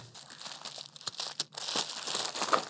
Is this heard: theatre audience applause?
no